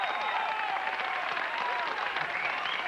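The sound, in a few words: studio audience applause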